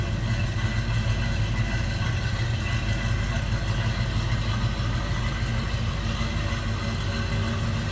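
A 1955 Chevrolet 3100 stepside pickup street rod with a mildly cammed 350 small-block V8 idles steadily, giving a low, even rumble up close with no voices over it.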